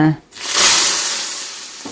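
Hot oggarane tempering poured into boiling rasam, a loud sudden hiss that bursts up right after a short voice and then slowly dies down to a fading sizzle.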